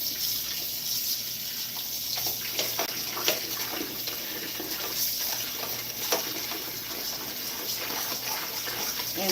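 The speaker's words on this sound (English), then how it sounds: "So I want enough water to cover them up." Tap water runs into a kitchen sink to soak hog chitlins for cleaning, a steady close hiss and splash with small irregular gurgles throughout.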